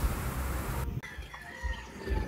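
Chickens raised for cockfighting at a home in the Philippines cluck and a rooster crows, with one call ending abruptly partway through amid faint background noise.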